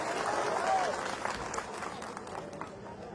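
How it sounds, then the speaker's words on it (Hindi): A crowd claps throughout a rally in Etawah, with a broad wash of applause and occasional sharper claps. Voices and a shout mix in, and the clapping gradually thins toward the end. "बोलो भाई, ताली बजाओ"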